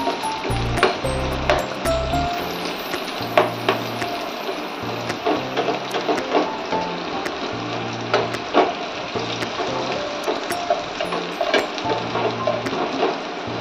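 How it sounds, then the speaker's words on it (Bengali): Katla fish pieces frying in oil over a high flame in a pan, a steady loud sizzle with periodic stirring scrapes and clinks, no talking. "আঁচটা কিন্তু হাই ফ্লেমেই আছে, কারণ আমার এখন এটাকে ভাজা লাল করে ভাজার প্রয়োজন আছে।"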